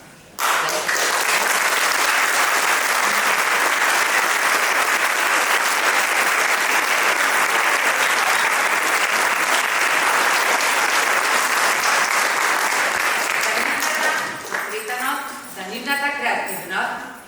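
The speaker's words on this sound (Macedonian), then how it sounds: "вечерва аплаузот нека биде погласен од вообичаеното" A theatre audience at a School of Rock musical breaks into loud, sustained applause that fills the hall for about fourteen seconds, then fades as a voice begins speaking.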